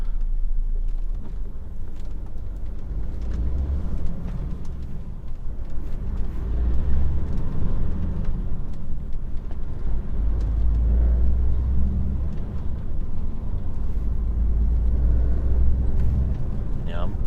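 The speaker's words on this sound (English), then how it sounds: "Let this little truck by." A small truck rumbles past on the road, heard as a deep, steady engine and tyre drone from inside a moving vehicle, with someone talking over it throughout.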